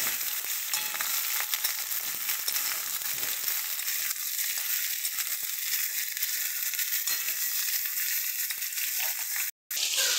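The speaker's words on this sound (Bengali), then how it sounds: "এবারে দিয়ে দেবো আমরা আলু কুমড়ো দুটো একসাথে দিয়ে খুব সুন্দর করে এটাকে ভেজে নেব" Potato and pumpkin pieces fry together in a pan, with a dense, steady, close sizzle and occasional stirring scrapes that continue almost unbroken until a brief cut near the end.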